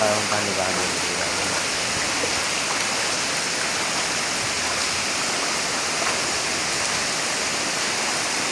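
Steady rushing water, loud and continuous, like a flood pouring through, with no breaks, as floodwater fills a Murugan temple at Suthumalai Amman temple.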